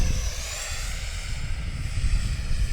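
Radio-controlled F-15 Eagle model jet with twin 64mm electric ducted fans sweeping past at a flying field, a loud, steady whooshing whine that swells slightly as it nears.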